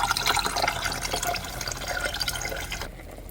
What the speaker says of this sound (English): I'm just running some water over my eggs to cool them down